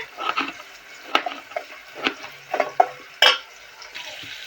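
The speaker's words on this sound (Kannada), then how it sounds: "ಉಳ್ಳಾಗಡ್ಡೆ ಕೆಂಪಗಾಗೋಗಿ ಹುರಿ" Onions fry in a pan, a soft background sizzle broken by irregular scraping and clacking strokes of a stirring spoon, close and moderately loud, with no talking.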